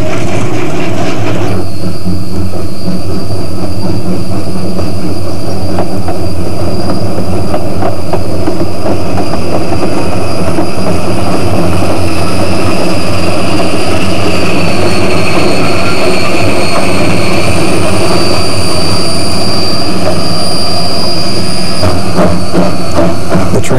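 Colorado narrow gauge train on the street-running approach to the Santa Fe depot, a loud rumbling rail roar with rhythmic clatter and faint wheel squeal throughout, on an old film soundtrack.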